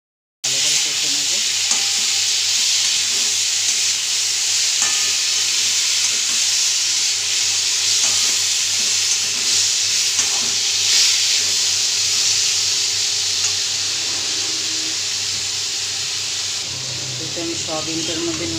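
Soybean chunks marinated with ginger, garlic, cumin and chopped tomato sauté in a hot pan with a constant loud sizzle and hiss, broken by occasional stirring scrapes, close up for the whole stretch.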